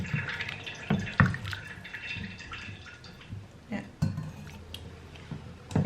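Water poured into a pot of pork stew, splashing and trickling in short bursts over a steady background hiss, with faint voices nearby.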